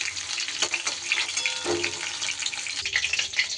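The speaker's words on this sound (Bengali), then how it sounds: "পটলগুলো খুব মচমচে করে ভাজার দরকার নেই, মোটামুটি এইভাবে লাল লাল করে ভাজা হলেই চলবে।" Pointed gourd pieces frying in hot oil give a close, dense crackling sizzle that holds steady throughout, with occasional soft stirring clatter.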